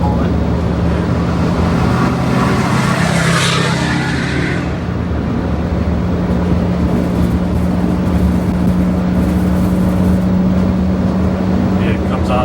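A truck with its jake brake stuck on while accelerating, a loud continuous low engine drone with a steady buzzing rasp that dips briefly mid-way, with someone talking over it.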